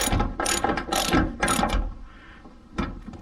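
A ratchet clicks in quick bursts while tightening bracket nuts on an LED pod ditch light mount, loud and close, with a short pause before a final burst.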